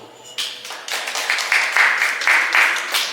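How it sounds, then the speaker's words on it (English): A stand-up comedy crowd breaks into a short round of applause with some higher cheering tones, rising in waves over about three seconds without speech. "Round of applause."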